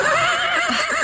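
A horse in a radio drama gives a loud, close, wavering neigh that fills the whole short moment on its own.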